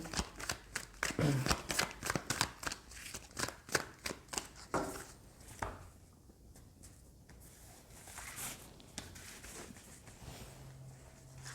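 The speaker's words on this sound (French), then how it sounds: "on va prendre quelques cartes du tarot pour affiner un peu ce message" Tarot cards being shuffled by hand, a rapid series of close papery riffles and slaps over several seconds, then softer card handling, with no speech.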